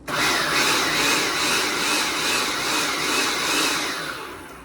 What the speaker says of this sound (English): I'm going to pulse it maybe 2 or 3 more times